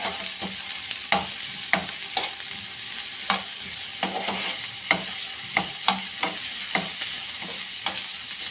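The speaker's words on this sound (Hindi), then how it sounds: "बस इस तरीके से आपने 1 से 2 मिनट तक इसको प्याज को अच्छे से फ्राई कर लेना" Onions frying in oil on a medium flame until golden, with a steady sizzle and regular scraping stirs of a spoon in the pan, close and clear with no voices.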